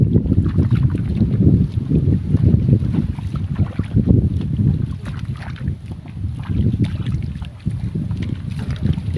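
Strong wind blows across an open rice field during planting on a hot afternoon, a loud continuous rushing and buffeting roar with gusty swells throughout.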